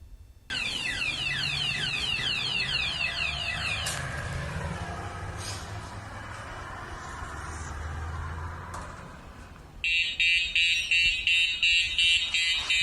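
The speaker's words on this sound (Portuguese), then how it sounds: "Porque tem um alarme no portão, provavelmente por questão de segurança." Electronic alarm at a school entrance gate, a continuous loud wailing tone that later switches to a rapid pulsing beep, with no talk.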